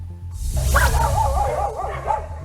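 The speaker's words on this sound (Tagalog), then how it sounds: "Rinig na rinig ang kahol ng mga asong ito" Several dogs stranded on an abandoned farm during floods in Brazil bark and yelp in a distance, their calls overlapping over a low rumbling background.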